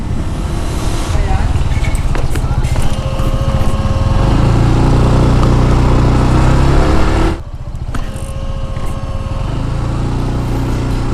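A motorcycle engine drones steadily, close by, with a shift in pitch midway and a brief dip in loudness; speech is faint or absent.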